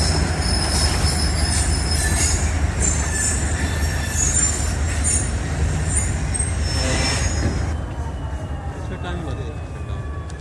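The 18 Down Millat Express passes through Padidan railway station, a loud close roar of rolling wagons with high shrill wheel squeal that gradually fades toward the end.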